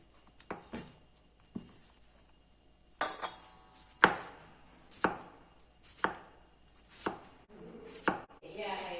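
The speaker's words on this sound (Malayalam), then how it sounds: "ഇതും കൂടെ നമുക്ക് ചെറുതായിട്ട് അരിയണം." A knife chops pineapple into small pieces on a board, a series of sharp, distinct cuts at an irregular rhythm, close and fairly loud with quiet gaps between strokes.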